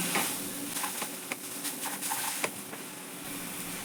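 Boiled moong dal poured into fried spice paste in a hot pan: a continuous dense sizzle with scattered clicks and stirring scrapes, moderately loud and close, no talking.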